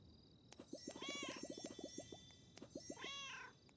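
A cat in the video game Seclusa gives two meows, one after another, amid faint tinkling and chiming tones. Each call is clear but quiet, with no talking.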